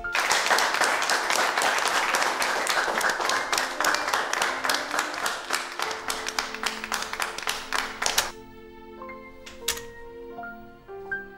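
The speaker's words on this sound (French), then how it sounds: "Merci d'applaudir." Audience applause at an official signing of a loan agreement with the World Bank: dense, sustained clapping from a group that thins into scattered individual claps, then gives way to soft electronic tones.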